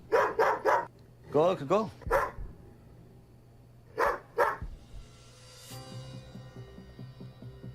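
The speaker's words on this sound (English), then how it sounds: "That dog doesn't even look aggressive. It's just barking on his own property." A dog on its own property barks in sharp bursts, first a quick run of three, then yips, then two more, fairly close, while a person speaks briefly and a low hum runs underneath.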